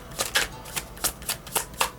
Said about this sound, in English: Let's pull a Rebel card just to lighten the mode.